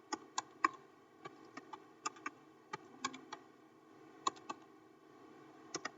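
Someone types a command on a computer keyboard, producing faint, close, irregular key clicks with brief pauses, over a low steady hum.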